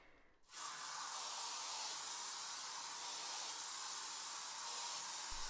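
A continuous aerosol air freshener spray hisses loudly and steadily up close in a bathroom, starting abruptly after a brief pause and holding for several seconds.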